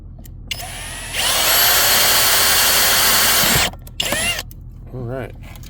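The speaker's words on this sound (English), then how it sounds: "drilling into your cup holder like this" A power drill bores into the plastic cup holder of a Chevrolet Silverado or GMC Sierra truck cab, one loud sustained burst of about two and a half seconds, followed by short clattering handling noises and a brief voice near the end.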